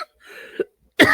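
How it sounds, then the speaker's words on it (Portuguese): Someone coughs two or three times in quick succession: a short cough, a throaty rasp, a pause, then a loud sharp cough, all close and alone. "Se fosse poder gravar, tirava a tosse."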